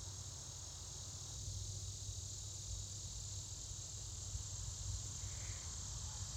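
Male southern periodical cicadas (Magicicada) sing in a steady, unbroken high drone that holds at an even, moderate level throughout, like a distant chorus with no breaks or other voices.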